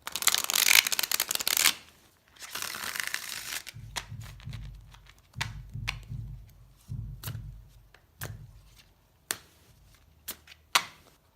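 Thick-stock tarot cards being shuffled by hand: two long riffling bursts, then a series of shorter, snappy card slaps and rustles at irregular intervals, close and clear with no talk.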